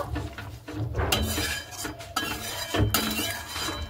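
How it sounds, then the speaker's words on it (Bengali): A spoon scrapes and clinks in a pan as ghugni made with green peas is gently stirred with roasted spice powder, repeated metallic knocks and scrapes up close, with no speech. "এবার হালকা করে এইভাবে নেড়ে নেব।"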